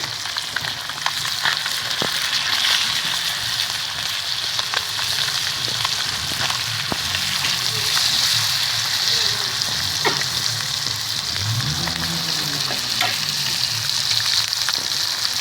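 Fish frying in plenty of hot oil in a pan, with oil spooned over the top: a loud, continuous sizzle and crackle throughout, with occasional clinks and scraping, and no talking.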